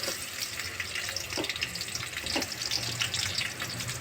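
Onions fry in a pan for gongura chicken, a steady close sizzle with faint stirring scrapes and no voices.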